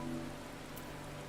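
Steady rain falls in the Final Fantasy XIV game world, a dense even patter that fills the short stretch with constant hiss and no voices.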